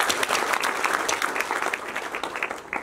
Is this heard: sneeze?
no